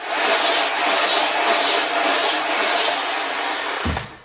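Nerf Revreaper Zombie Strike blaster flywheel motors spinning, a loud, steady whirring hum held for about four seconds before winding down with a small clunk at the end.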